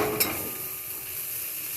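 Potatoes fry in a pan with a steady, close hiss of sizzling oil and a brief clatter at the start.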